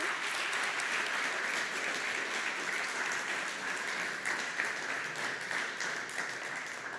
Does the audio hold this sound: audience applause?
yes